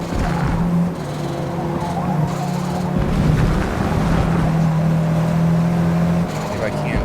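Race car engine in Forza Motorsport, a loud continuous drone with shifting pitch as the car brakes and drops gears, heard up close, with a voice talking over it.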